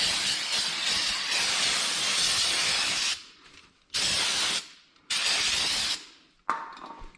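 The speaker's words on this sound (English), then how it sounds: "We're actually gonna spray it with brake clean" Brake cleaner hisses from a spray can onto a new rear brake rotor of a 2014 Ford F-150, first one long steady blast, then three shorter bursts with quiet gaps between.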